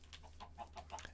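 Chickens in the Minecraft video game clucking in a quick run of short clucks, faint under a steady low hum.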